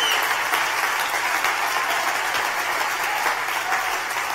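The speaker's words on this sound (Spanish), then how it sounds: "Dale aplausos a Dios si lo crees y lo recibes." A church congregation bursts into sustained, dense applause, a steady wash of many hands clapping at even loudness throughout with no talk.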